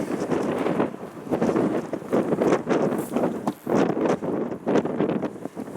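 Strong wind buffets the microphone in loud, gusty rumbles that rise and fall continuously, with no voices.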